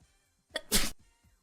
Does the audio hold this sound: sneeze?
yes